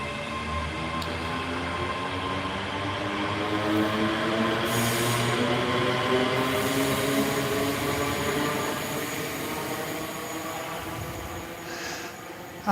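A train rolls steadily along the rails, a continuous rumbling drone with layered tonal hums from the running gear, heard from inside at a constant, moderate level.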